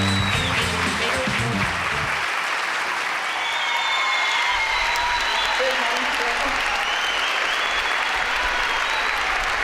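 An audience stands and applauds for Rubem Alves, dense sustained clapping that fills the whole stretch at even strength, with music beneath it at the start.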